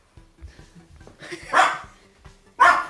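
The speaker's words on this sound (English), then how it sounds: "Other than the dog barking" An excited dog barks indoors, a few sharp, close barks with small yips and whines between them, the loudest bursts near the end.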